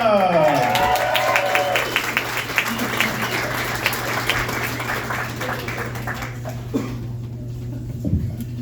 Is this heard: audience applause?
yes